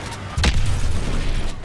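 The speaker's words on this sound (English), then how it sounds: "Much explosion." A sudden loud explosion in the shooter game Call of Duty: Advanced Warfare hits with a sharp boom, then a sustained rumbling roar and debris noise that continues to the end.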